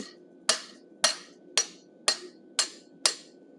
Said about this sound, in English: Then I've got my curved chisel. I'm going to cut the mouth